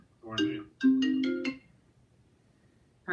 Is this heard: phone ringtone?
yes